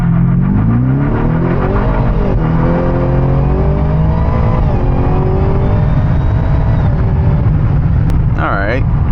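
A 2024 Ford Raptor R launches with a slight boost and accelerates hard, its engine note rising steadily and loud for several seconds before a brief high squeal near the end.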